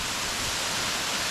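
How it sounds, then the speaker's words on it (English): Small roadside waterfall cascading over rocks in a national forest, a steady broadband rush of flowing water filling the clip, continuous and fairly close with no talk. "the way the water just flowing down there on those rocks"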